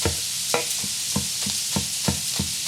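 Ground chicken sizzles steadily in a hot pan, a broad continuous frying hiss broken by regular scraping strokes of a spatula about every half second, close and moderately loud with no talking.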